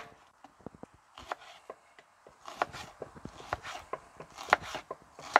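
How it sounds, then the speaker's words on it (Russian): A knife chops onion on a cutting board for a kebab-and-grilled-vegetable meal, in a steady run of crisp, close taps that speed up into quick bursts, with no talk. "Теперь лук нарежем."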